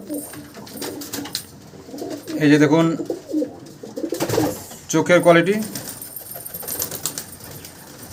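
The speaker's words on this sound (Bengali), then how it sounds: "প্রথম পায়রা দেখাবো একটা গোল্ডেন নর।" Golden male pigeon cooing in repeated throaty bursts, close and fairly loud, with someone talking over and between the calls.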